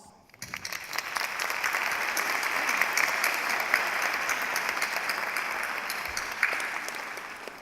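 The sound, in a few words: audience applause for graduates' families at commencement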